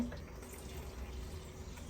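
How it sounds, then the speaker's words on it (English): Coconut milk and water are poured into vegan curry paste in a home kitchen, giving a steady, close liquid pour and splash that runs evenly for about two seconds with no talking. "Now I'm gonna add more coconut milk as well as some water."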